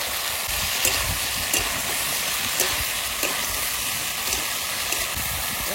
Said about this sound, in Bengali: আলু একটুখানি ভেজে নিয়েছি, এবার ঝিঙেগুলো দিয়ে দেবো, তারপরে ভালো করে ভেজে নেবো।